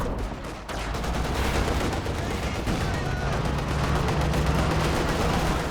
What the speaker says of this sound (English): Suppression's starting to come online now from the base machine guns.